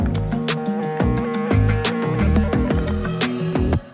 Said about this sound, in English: you know that space arpeggiator sound?